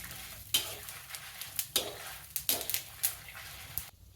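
Garlic cloves and tamarind pieces fry in a pan for a Telangana-style ponnaganti karam, a quiet sizzle punctuated by several sharp scraping stirs against the pan, no talking.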